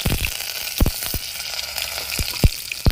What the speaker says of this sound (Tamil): எண்ணெய் சூடாயிருச்சுங்க. வெந்தயம் போட்டுக்கிறோம். தேவையான கருவேப்பிலை போட்டுக்கணும்.